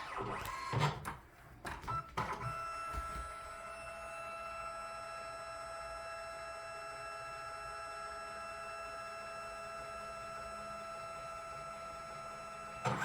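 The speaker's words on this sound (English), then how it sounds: "on some of these larger scans, the higher the DPI, the longer it takes to scan" A flatbed scanner scans artwork at 300 DPI, giving a steady mechanical hum with tonal whine that runs unbroken for about ten seconds after a few clicks and knocks at the start.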